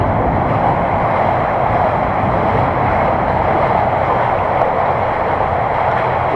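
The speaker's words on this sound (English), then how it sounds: "We just had a train coming in or leaving, you can hear it." Deep in an underground river tunnel in Sheffield, a train rolls past somewhere overhead beneath station platforms. A dense, continuous roar hangs over the water noise and echoes without a break.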